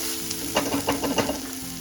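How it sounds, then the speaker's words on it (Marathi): Kolhapuri golma sizzles steadily as it is sautéed dry in a pan, with a few louder stirring scrapes and bursts of frying toward the middle; no voices. "परतून घ्यायचा आहे पूर्ण सुका होईपर्यंत."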